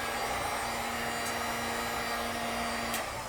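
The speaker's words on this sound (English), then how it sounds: "I am not very good at using a heat gun to blow stuff around" A heat gun blows hot air over melted crayon wax on a wooden coffee table, a steady loud whooshing hum held alone for the whole stretch.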